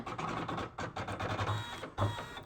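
A Usha embroidery sewing machine runs briefly while its stitch position is stepped along a left-right design, giving a close, steady mechanical whir with a few short pulses and quick stops.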